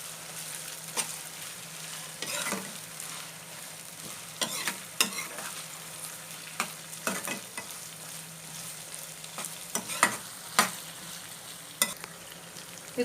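Chopped medium-sized capsicum frying in a pan, with a steady low sizzle broken by repeated scraping stir strokes at irregular intervals, close and moderately loud, no voices.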